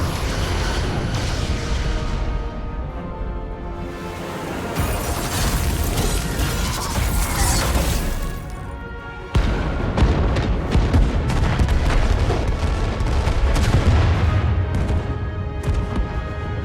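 Starship weapons from Star Trek: Resurgence fire on an enemy vessel in dense, continuous booming bursts, with a sharp louder salvo kicking in midway and sustained rumbling blasts through to the end, no talking.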